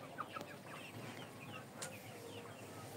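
Colour-bred chickens on a farm cluck and chirp continuously in a dense, overlapping chorus, with a few sharper calls rising above the steady flock noise.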